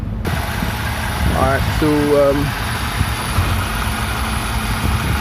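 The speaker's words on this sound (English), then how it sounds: "that's the engine running." A 2013 Honda Accord engine idling, with a steady low hum and faint vibration throughout, and someone speaking briefly over it near the start.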